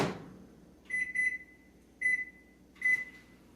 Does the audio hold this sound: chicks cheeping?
no